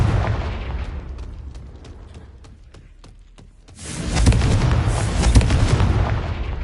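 A series of quick clicking pops builds up, then a Confringo blasting spell in Hogwarts Legacy erupts into a loud, sustained explosive roar that rumbles on to the end.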